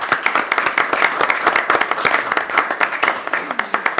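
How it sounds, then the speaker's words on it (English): A short round of applause at a county council meeting, many hands clapping briskly and evenly at close range with a faint voice underneath. "You can give her a round of applause if you'd like."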